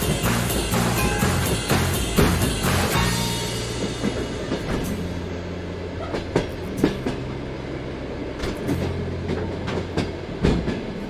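A long-distance train in Russia rolls along the tracks with rhythmic clickety-clack of wheels over rail joints, steady rumble and occasional sharp metallic knocks.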